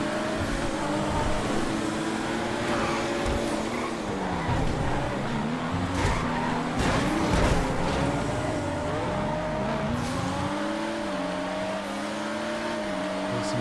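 Drift-spec Euro cars race through a GTA FiveM street race, their engines droning and shifting pitch continuously with faint tire scrubbing, loud and steady throughout with no pauses.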